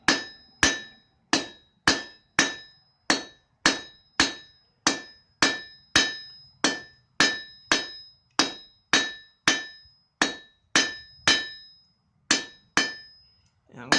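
A blacksmith hammers a sharp point onto the end of a forged tent stake: about twenty evenly paced, ringing metal strikes, close and loud, each followed by a brief fading ring.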